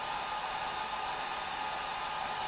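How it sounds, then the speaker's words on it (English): A hair dryer blows in a steady, unbroken whoosh with a constant motor whine, loud and close, with no other sounds. "I'm drying it a lot faster with my hair dryer."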